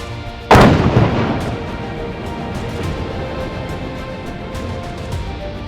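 Russian artillery fires in Ukraine with one loud, close boom that rolls off into a long rumbling tail, over a steady background of distant thuds.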